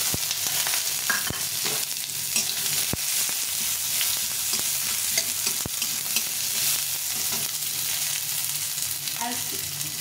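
Onion sizzles in oil in a wok, making continuous close frying hiss with frequent stirring scrapes and small clinks throughout.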